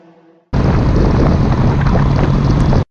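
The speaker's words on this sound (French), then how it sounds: "Je vais faire écouter le bruit un petit peu, je vais pousser un petit peu." A Suzuki GSX-S 1000 GT motorcycle engine revs hard and loud after a brief quiet start, a steady throaty roar held for over two seconds, close up and mixed with wind buffeting.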